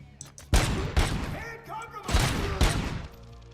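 Machine gun fire in the video game RoboCop: Rogue City, loud dense bursts of rapid shots in several waves with heavy thuds, separated by brief lulls.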